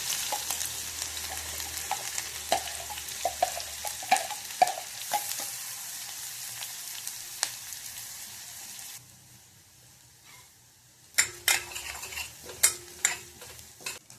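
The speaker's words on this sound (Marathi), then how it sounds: "त्यामध्ये आपण राई घालणार आहोत, थोडी जिरं, आणि हा ग्राइंड केलेला मसाला आपण यामध्ये घालून घेणार आहोत." Mustard seeds, cumin and ground masala fry in hot oil, a steady crackling sizzle with sharp pops and the clatter of stirring; the sizzle drops away briefly, then returns with a few clinks of a utensil against the pan.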